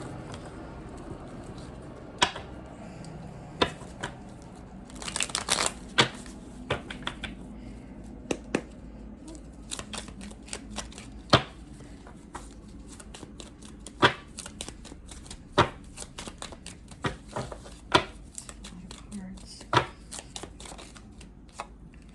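A deck of playing cards shuffled by hand for a card reading: a close, steady riffle and flutter of cards, broken by frequent sharp snaps and taps, with no talking.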